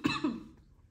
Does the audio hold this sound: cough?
yes